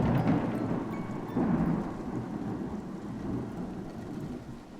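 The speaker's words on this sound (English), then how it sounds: "A terrifying storm swallowed the valley whole." A thunderstorm with rain rolls over a valley: steady hissing rainfall under low rumbling thunder, with louder swells near the start, continuous throughout and with no voices.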